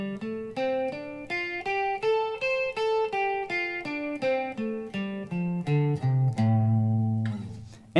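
Single guitar notes plucked one after another climb up a pentatonic scale and back down, evenly paced, ending on a held low note.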